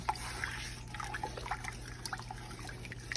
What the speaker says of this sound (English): You can still see I'm stirring it in here.